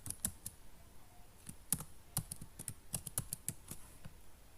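Someone types a password on a computer keyboard, with a burst of separate key clicks in an uneven rhythm, close but quiet, against a faint background and no talking.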